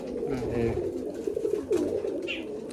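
Andhra and local pigeons coo inside a loft near Baruipur, a steady low rolling burble under nearby conversation between two men.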